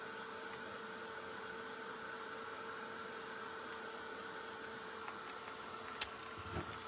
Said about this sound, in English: This little dryer gets hot, guys.